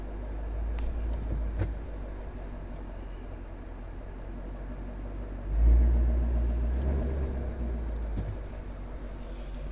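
A Ford Mustang GT350 with a manual transmission pulls away as the clutch is released and gas is added, giving a low, steady engine rumble that swells briefly about midway before settling. The rumble is fairly faint and there is no talk.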